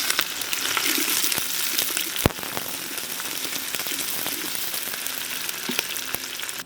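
Small shallots frying in hot oil with curry leaves and green chillies for a vegetarian Tamil kuzhambu, a steady close crackling sizzle with sharp pops and clicks of a spoon against the pan.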